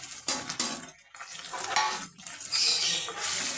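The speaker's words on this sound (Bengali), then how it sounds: "মশলাটাকে আমি ভালো করে দু মিনিট কষিয়ে নেব" Spice paste of chili, turmeric, coriander, cumin and pepper powders being stirred and sautéed in a pan, with scraping spoon strokes and a steady sizzle in short bursts.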